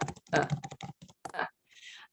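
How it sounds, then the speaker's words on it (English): Quick clicks of a computer keyboard being typed on, a short burst of closely spaced keystrokes at moderate level, heard close with no talking. "I'll type it"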